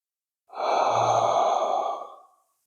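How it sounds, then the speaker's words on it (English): A single slow, deep breath drawn in and let out, close and clear for about two seconds, swelling and fading softly with no speech. "Let's breathe."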